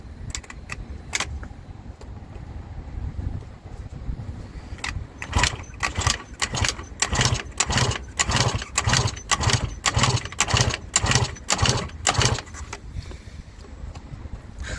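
An Eaton Beamer Matrix 2 motorcycle engine being kick-started and brought to life, sputtering at first and then settling into a fast, uneven run of sharp, rhythmic exhaust pulses, loud and close.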